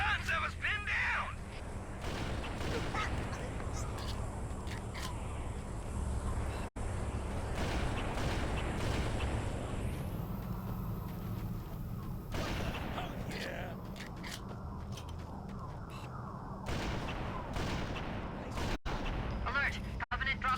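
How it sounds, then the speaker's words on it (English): Enemy gunfire in the Halo video game: dense, continuous bursts of shots and heavy booms rattle on loudly for a long stretch, with voices talking over the barrage. "Those freaking guns have us pinned down!"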